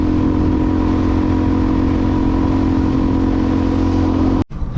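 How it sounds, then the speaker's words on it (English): A Suzuki DRZ400E dual-sport motorcycle engine runs at a steady idle up close, a loud, even, thumping drone that continues unchanged until a brief dropout near the end. "bike's still running well"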